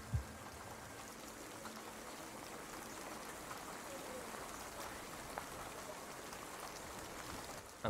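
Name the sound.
rain ambience sound effect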